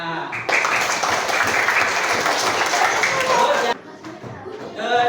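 A classroom bursts into applause, a dense wash of clapping hands that holds for about three seconds before cutting off, with a voice speaking just before and after it.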